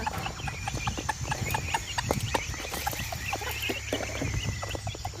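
Chickens and small chicks on a farm give repeated close clucks and peeps in an irregular, busy chorus over a low background, with no talk.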